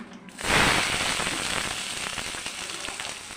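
Chopped onion dropped into hot oil already tempered with bay leaf, cumin and garam masala in a kadai, bursting into a loud, dense crackling sizzle that settles into a steady frying hiss.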